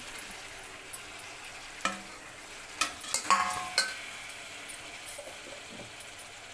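Ivy gourd curry stirred in hot oil in a pan as chopped tomatoes go in, with a series of close scraping and clinking stirs over a low, steady sizzle.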